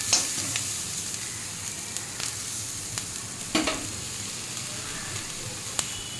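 Papaya with capsicum and black pepper being stirred in a frying pan, a steady soft sizzle with occasional sharp scrapes and clicks of the spatula against the pan.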